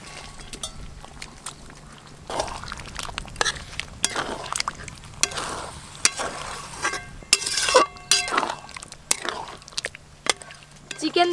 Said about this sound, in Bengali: ভেজে রাখা চিকেনগুলো দিয়ে দেব